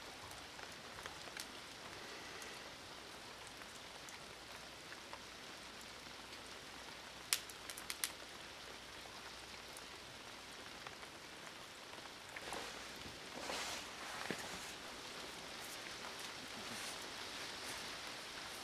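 Rain falls outdoors during a gale-force storm, a steady, soft, dense patter with a few sharper drop hits now and then, and no voices.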